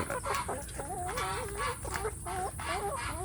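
Free-range village chicks cluck and peep in quick, repeated wavering calls over a hissy outdoor background, several birds chirping close by with no talk.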